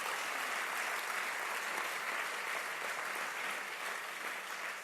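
A church audience breaks into steady, sustained applause that fills the room evenly from start to finish, with no voices rising above the clapping.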